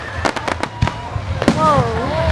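Fireworks at a park firework show in Rosemead burst in a quick string of loud pops and crackles, with whistling rising tones near the end and people talking and exclaiming throughout.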